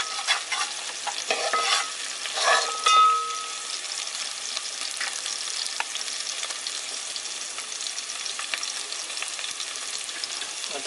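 Chow mein being stirred and fried on high gas, a steady close sizzle with scraping stir strokes and a few louder clatters near the start, no voices.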